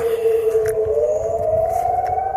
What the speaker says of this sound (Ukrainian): Знов лунає повітряна тривога.